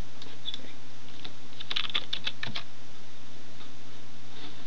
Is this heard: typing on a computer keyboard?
yes